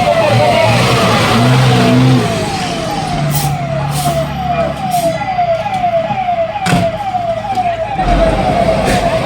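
A fire engine siren wails in fast repeating cycles as a heavy engine rumbles close by, with occasional sharp clatters and bangs, arriving at a school fire-safety drill.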